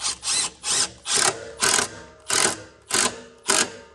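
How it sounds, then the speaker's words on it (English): Repeated ratchet wrench clicks while tightening a turbo boot clamp on a 6.0 Powerstroke diesel engine, eight steady bursts of ratcheting close up with short pauses between them. "I always tighten this top clamp down first on this boot."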